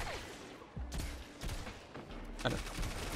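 Several sharp gunshots ring out in quick succession over a low game background, with faint voices, from Destiny 2 in Crucible play.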